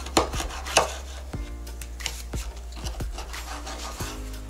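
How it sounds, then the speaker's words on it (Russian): A knife cuts pollock fish into small pieces on a board, giving a series of sharp, close chops and scraping strokes spaced about half a second apart, with a steady low hum beneath and no talk. "Нарезаю такими небольшими кусочками."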